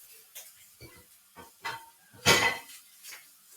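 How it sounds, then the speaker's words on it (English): Scattered clanks of a utensil against a pan stir-frying bacon-turkey, bimi, mushrooms and garlic butter, with a sizzling burst in the middle, irregular kitchen clatter at close range. "While I'm stir frying"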